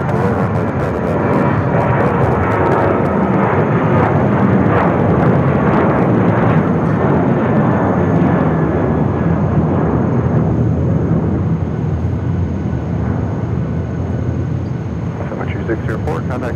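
An airliner rolls for takeoff on runway 7 left at Phoenix Sky Harbor, its engines a loud, broad rumbling roar that swells early and then slowly fades as it climbs away.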